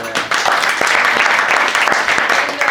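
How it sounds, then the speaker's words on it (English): Loud, close applause from a small gathering at a home religious program, a dense patter of many hands clapping for a few seconds with a voice briefly audible over it. "give them a big applause"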